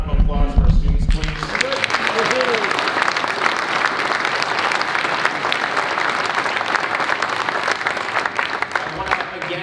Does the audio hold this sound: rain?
no